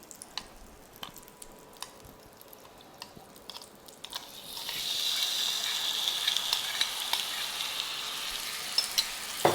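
Corn kernels frying in melted butter in a pan, a soft sizzle that swells midway and then holds steady, close and fairly quiet, with scattered small clicks and taps and no talk.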